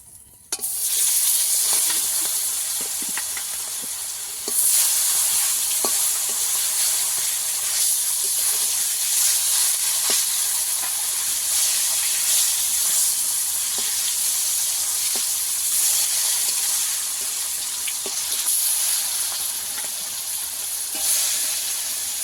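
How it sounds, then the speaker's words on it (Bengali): Pangas fish hits hot oil, bursting into a loud, dense, hissing sizzle that runs continuously with scattered crackles and pops, heard without talk. "তেল গরম হয়ে গেছে দিয়ে দেবো মাছ"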